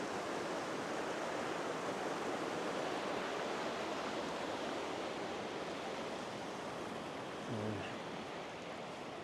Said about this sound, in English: there's a lot of running water here